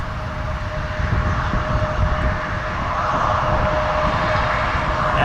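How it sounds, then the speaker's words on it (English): Delta Connection RJ900 regional jet, Endeavor flight 4642 to JFK, at Toronto Pearson airport: a steady, fairly loud engine roar with a thin tonal whine, continuous and unbroken, no voices. "This RJ900 Delta connection, Endeavour 4642 is going to JFK"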